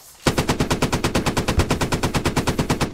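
Sustained automatic gunfire from the video game Squad, a rapid, evenly spaced burst of about twenty loud shots running nearly three seconds without pause, close and dominant with no talking.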